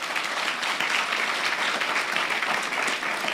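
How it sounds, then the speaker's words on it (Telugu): Applause from a church congregation during a worship service sermon, steady dense clapping filling the whole span at an even level, with no speech over it. "చప్పట్లు కొట్టరు ఇలాంటి వాటికి."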